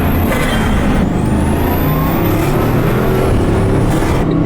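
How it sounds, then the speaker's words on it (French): A Bugatti Chiron's turbocharged engine roars loudly, steadily and close, with a rising turbo whine and hissing rushes of air from the dump valves over the deep rumble. "La sonorité de cette voiture, elle est incroyable parce que t'as tellement de pression d'air"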